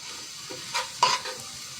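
Pumpkin fry (kumro bhaji) stirred in a pan while it sizzles, with a few short scraping strokes of the spatula over a steady frying hiss.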